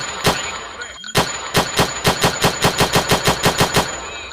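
Rapid automatic rifle fire in a shooting video game, a couple of single shots then a long steady burst of evenly spaced loud reports, close and dominant.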